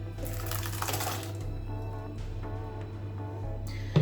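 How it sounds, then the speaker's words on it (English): Water from blended vegetables and bell peppers trickles through a sieve in a home kitchen, a steady soft running and dripping sound at close range with faint clinks, no talk. "Now because I used water to blend my vegetables, and because bell peppers has a lot of water, I'm going to sieve this."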